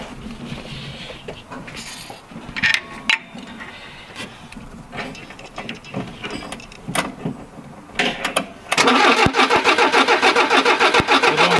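A Renault Trafic van left stored in a barn for years is cranked, sputtering through uneven clunks and brief bursts before catching and settling into a loud, steady running rattle near the end.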